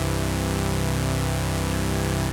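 Sawtooth wave from a Black Corporation Deckard's Dream MK2 synthesizer, a steady buzzy sustained tone with dense even harmonics, held loud and unchanging for about two seconds before cutting off, with no voices.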